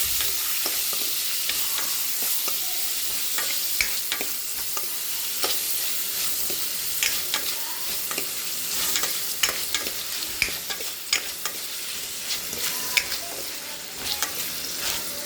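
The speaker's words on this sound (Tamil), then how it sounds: "தக்காளி போட்டுக்கலாம், நல்லா வதக்கலாம்." Tomatoes sizzle and fry in a pan with a steady hiss, punctuated by frequent clicks and scrapes of a spoon stirring.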